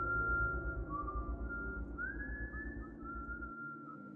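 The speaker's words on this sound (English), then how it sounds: "Y'all shouldn't be whistling at night." A person whistles a sustained melodic tune, the notes sliding and wavering over a low rumbling background, loud and close throughout and ending abruptly.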